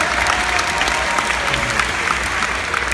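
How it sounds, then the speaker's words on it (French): Steady applause from a conference audience at a Pokémon event, dense and continuous clapping filling the whole stretch at an even level. "On peut applaudir Monsieur Omori quand même, s'il vous plaît."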